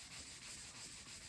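Hand sanding paintwork on a Ford Cortina car body, a quiet, steady rhythmic scraping of abrasive strokes repeating about every quarter second, close and alone.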